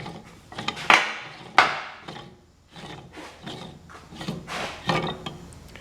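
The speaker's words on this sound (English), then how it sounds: "the caps unscrew." Threaded caps being unscrewed from a crud-filled sawmill mandrel, heard as close metallic scraping and grinding twists with a couple of sharper clanks, no talking.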